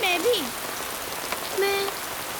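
Heavy rain pours in a steady broadband hiss, with brief tonal voices or sounds faintly over it.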